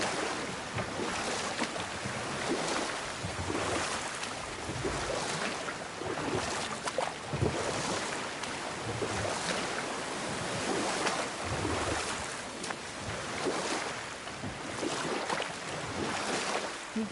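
A boat glides across open water in God of War, with steady surf and wave wash and a breath of wind carrying on continuously at a moderate level, no voices.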